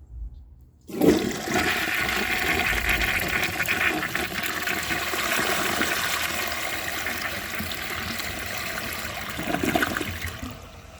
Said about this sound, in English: That is one of, if not the best flush I have ever seen.